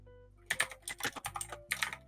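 Computer keyboard typing in several quick bursts of clicks and clacks, fairly close and clear, with short pauses between runs and no voices over it.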